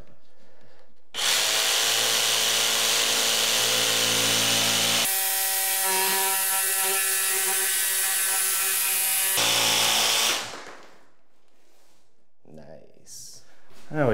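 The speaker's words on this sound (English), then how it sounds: "The way I like to make cuts like this is with a jigsaw with a fine tooth blade, and it cuts through it just like butter." A jigsaw fitted with a fine tooth blade cuts through Lifeproof vinyl plank flooring in a loud, close, sustained buzz whose pitch shifts partway through, then stops and leaves quiet handling noises.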